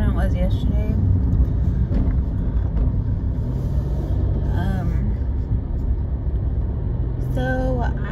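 Steady low engine and road rumble fills the cabin of a moving car, continuous and fairly loud, with someone speaking over it throughout.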